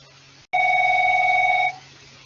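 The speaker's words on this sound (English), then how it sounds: "My phone's ringing." A mobile phone ringing in a classroom, one steady sustained electronic ring lasting over a second, loud and close, with no talk over it.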